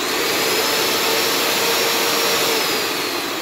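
A Seito 2800W electric paint mixer runs at its highest speed, giving a loud, steady, close motor whine and rushing roar that lasts the whole stretch with no talk over it.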